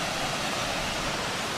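Steady, loud waterfall on Langkawi crashing without pause across the full spectrum, a dense unbroken roar with no voices.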